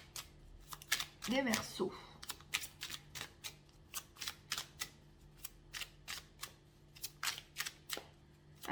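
Tarot cards being shuffled and drawn, heard as a long run of short crisp card slaps and flicks in a steady rhythm, close and clear, with a brief stretch of someone speaking early on.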